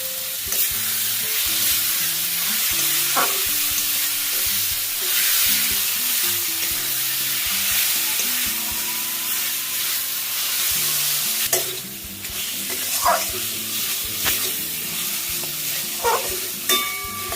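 Chopped spring onion stalks tossed into a pan of katla fish curry, a continuous loud sizzle with occasional spatula scrapes and clinks, close by, while soft music plays underneath; no one speaks.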